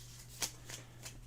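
Playing cards from the townsfolk deck of the tabletop game Gate + Gates getting a quick shuffle, three soft riffling bursts with the middle one sharpest, close and quiet over a steady low hum.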